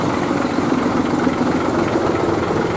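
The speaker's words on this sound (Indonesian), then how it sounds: "Dari suara mesinnya aja udah terdengar bukan Scania, teman-teman." A Hino truck engine dressed up to look like a Scania idles steadily, a continuous low rumbling drone with mild vibration, moderately loud and close, with no voices.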